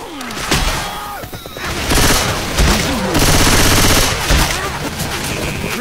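Video game gunfire: loud rapid automatic bursts and single shots crack close by, mixed with booms and thuds, in a continuous frantic barrage.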